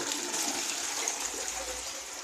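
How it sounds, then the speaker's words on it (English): A brand-new toilet with a top-mounted flush button in a Kiev apartment flushes with a steady, close rush of water that continues throughout without voices. "And this is how they flush their toilets here."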